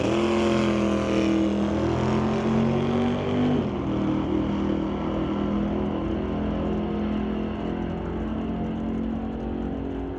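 A 1962 Chevy II and a 1969 Acadian roar together at a drag strip in a loud, sustained engine drone. Pitch climbs over the first few seconds, drops at a gear change, then holds as a dense rumble that slowly fades.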